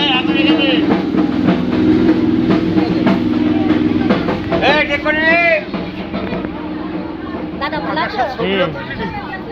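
A moving train rumbles steadily with faint rhythmic wheel clatter during a lively Vishwakarma Puja celebration. Crowd chatter and loud nearby voices run over it throughout.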